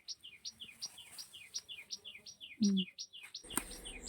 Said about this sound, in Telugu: పిచ్చుక సౌండ్ వినిపిస్తుందా అండి మా గార్డెన్లో అయితే